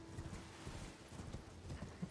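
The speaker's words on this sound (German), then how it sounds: "Da ist ein Esel." Donkey hooves clip-clop in the video game Elden Ring, a soft, steady run of quick hoof taps under a low ambient game hum, fairly faint and with no talking.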